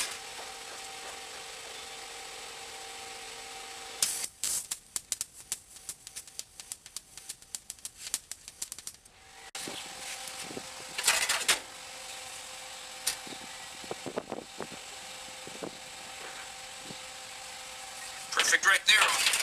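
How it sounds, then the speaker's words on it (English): Tack welding a corner during a 1957 Ford F100 truck rebuild, bursts of crackling, buzzing arc noise in a few short spells over a steady workshop hum, with someone talking at times. "I'm going to weld this one corner right here"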